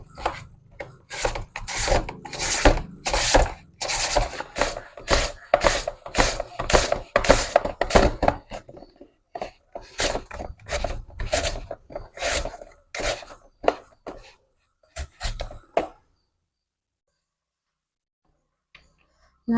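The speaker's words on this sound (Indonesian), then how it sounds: "Kita parut pakai ini aja ya teman-teman." Chayote squash is grated on a hand grater in a home kitchen, making quick, rhythmic rasping strokes close up. Short pauses break the strokes before they stop and leave near silence.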